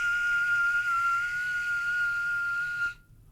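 A person whistles one clean, steady sustained pitch for about three seconds, loud and close, then stops abruptly into near silence.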